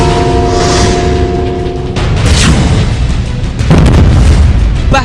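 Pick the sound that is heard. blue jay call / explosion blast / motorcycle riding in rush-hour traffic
explosion blast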